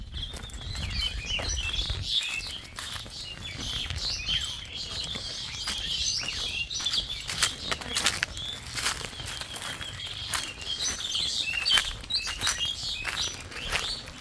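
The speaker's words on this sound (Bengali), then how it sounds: "এই জায়গাটি বিভিন্ন প্রজাতির পাখির কিচিরমিচির আওয়াজে যেন মুখরিত হয়ে আছে" Many birds of various species chirp and tweet continuously at a moderate distance around an old mosque under trees in Kahalu, Bogura, overlapping high-pitched calls with scattered sharp chips and light pattering throughout.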